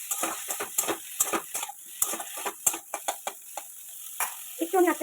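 Chopped onion, pointed gourd and eggplant fry in a pan with a soft sizzle under frequent sharp scraping strokes of a spatula, close and rhythmic, with no voices.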